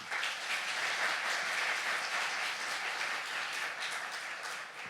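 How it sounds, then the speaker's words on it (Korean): Congregation at a summer national youth camp church gathering applauding steadily, a dense even wash of clapping that holds throughout at moderate level with no talk. "하나님께 박수를"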